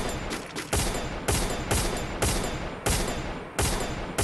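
Gunfire in the Free Fire mobile battle game: about six loud, sharp bursts at fairly regular intervals, each with a short decaying tail, heard alone with no talk.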